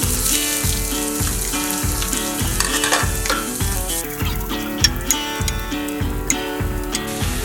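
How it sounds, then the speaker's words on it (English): Cauliflower pieces fry in olive oil in a hot pan on the stovetop, giving a steady close sizzle that runs the whole time beneath rhythmic background music. "We put that cauliflower in here and we're frying them now."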